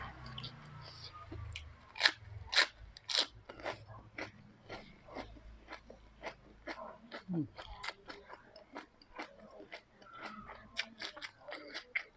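Close, wet crunching and chewing of crispy food comes in quick irregular bites, with a voice murmuring faintly underneath.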